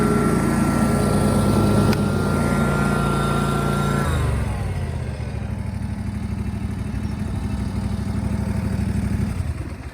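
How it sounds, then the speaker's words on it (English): A Ferris 32-inch Hydrocut walk-behind mower engine roars loudly at full throttle, a steady close running drone that shifts pitch and settles into a lower, even hum partway through. "Let me give it some gas. That's full throttle right there."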